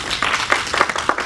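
Applause from an audience at a presentation welcoming a guest speaker, a burst of several distinct claps close by, steady and moderately loud with no talking.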